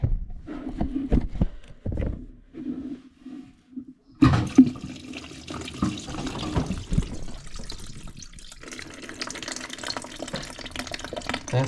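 Water drains out of a toilet tank into a bucket during a toilet valve repair, with a sudden rush and splash that keeps up as a steady trickle and gurgle after a few quieter clinks and knocks.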